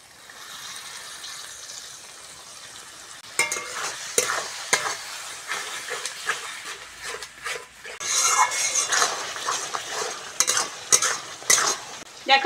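Whisked sour yogurt stirred into fried spices in a pan for Bengali doi potol, a loud steady sizzle that flares up with repeated spoon scrapes and clatter, close and without talk.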